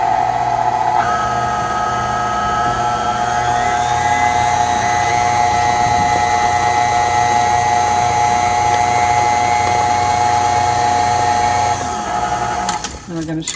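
Electric mixer on low speed blending flour into cheesecake batter in a kitchen, a steady close motor whir that holds constant for most of the stretch before a brief clatter at the end.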